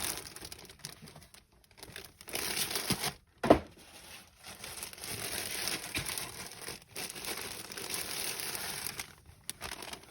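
Plastic packaging crinkles and rustles while Pokemon shirts are unboxed, close and fairly quiet, in irregular bursts with one sharper crackle partway through.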